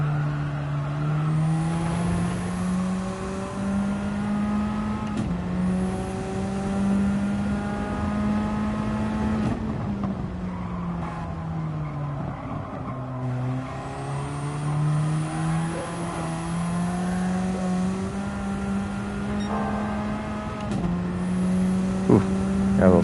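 Race car engine in Gran Turismo 7, droning steadily with rising and falling revs through corners and shifts, loud and continuous for the whole stretch with no talk over it.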